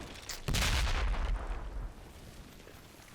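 Hand grenade blasts in the video game Combat Mission: Battle for Normandy: a loud, close explosive burst lands suddenly, followed by a rumbling, crackling decay that fades over a couple of seconds.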